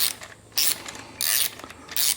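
A tap cutting threads during a motorcycle build gives rhythmic ratcheting metal grinding, with three loud back-and-forth turning strokes close by and no talking.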